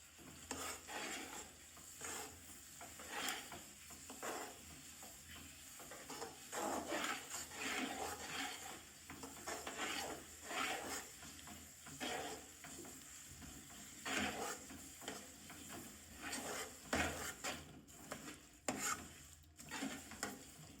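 Roasted sesame seeds and a sweet binding mixture for tal papdi brittle are stirred together in a pan, a continuous close scraping and rubbing with faint sizzle underneath, and nobody speaks.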